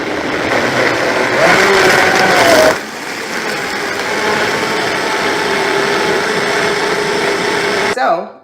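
A countertop blender runs steadily, whirring and grinding through a hair recovery smoothie, loud and close for about eight seconds before cutting off; the pitch shifts slightly partway as the load changes, with no talk over it.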